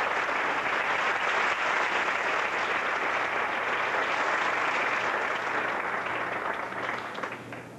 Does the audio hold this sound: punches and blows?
no